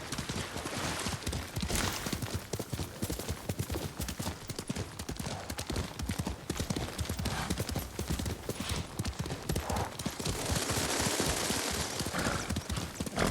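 Hooves pound in steady clip-clop rhythm as a horse gallops in the video game Ghost of Tsushima, loud and continuous over a dense layer of game ambience, with no talk over it.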